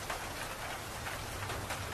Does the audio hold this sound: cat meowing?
no